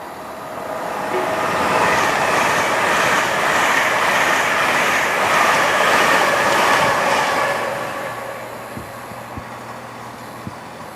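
A train passes through Grantham station on the East Coast Main Line, a loud rushing roar that swells over a couple of seconds, holds, then fades to a quieter platform hum with a few clicks.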